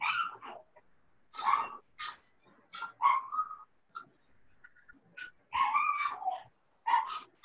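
A dog barks and whimpers in short, irregular yelps and whines that come and go over several seconds, fairly faint in the background.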